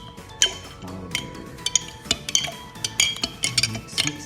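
A spoon stirs barley powder drink in a glass, clinking repeatedly against the sides in an uneven rhythm, close and fairly quiet with faint background hum.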